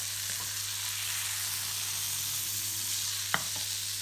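Fish frying in brown butter with a squeeze of lemon, a steady close sizzle with a low hum beneath and a single sharp clack of the pan or utensil near the end.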